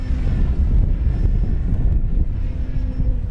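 FMS Fox 3000mm powered RC glider in flight, its electric motor giving a steady, loud whine with a faint high tone, mixed with heavy wind buffeting on the microphone, no voices.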